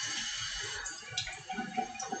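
Water runs steadily from a tap to wet hair during a home haircut, a continuous close hiss with small splashes and no talking.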